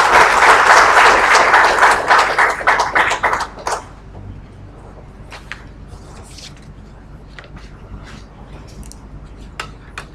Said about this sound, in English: a warm round of applause please for Professor Malik Ranasinghe